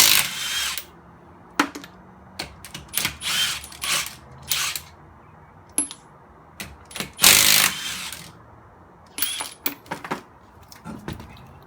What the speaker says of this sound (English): Now we're going to take the rest of the lug nuts off.